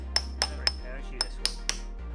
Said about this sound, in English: you can use a lead hammer or a leather hammer or whatever you want, or copper